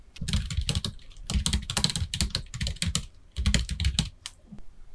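Rapid typing on a computer keyboard, close and crisp, comes in bursts of clicking keystrokes separated by short pauses.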